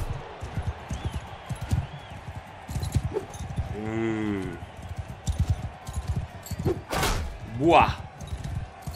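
Horse hooves pound in a Mount & Blade II Bannerlord battle, a rhythmic run of close thudding clip-clops mixed with combat noise and a shouted exclamation.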